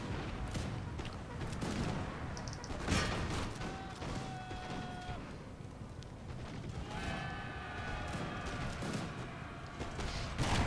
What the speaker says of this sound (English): See the infantry just shooting down enemy, not really getting anywhere.